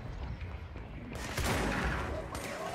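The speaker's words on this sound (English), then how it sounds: "never knew that fire extinguishers explode like this" A fire extinguisher blows up in the action video game Control, a sudden loud burst at about 1.4 seconds that rolls into a broad, sustained roar, over a low background rumble of game noise.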